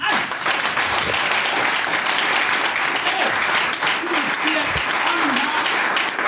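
An audience at a product training session applauds, with a dense, sustained clatter of clapping hands. A few voices call out underneath.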